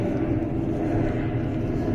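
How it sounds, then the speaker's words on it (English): An airplane passes overhead outdoors as a loud, steady broadband engine drone that fills the whole stretch without letup, with no clear talk over it. "As you can hear, there's a plane going overhead."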